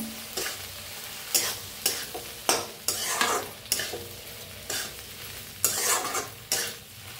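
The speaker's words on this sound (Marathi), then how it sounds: "आता ह्याच्यातच टाकूया भेंडी, भेंडी भाजून घेतलेली, मिक्स करूया।" Roasted okra is mixed into sizzling, oil-fried masala in a pan, with regular scraping stirs from a spatula every second or so over a continuous close frying sizzle, no voices.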